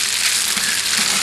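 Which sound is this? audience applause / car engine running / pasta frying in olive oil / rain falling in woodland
pasta frying in olive oil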